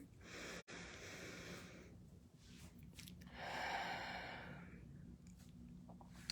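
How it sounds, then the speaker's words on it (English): Someone takes slow, deliberate breaths to calm down, one long drawn-out exhale standing out. The breathing is close, soft and quiet, with no speech. "So I'm stopping and I'm breathing."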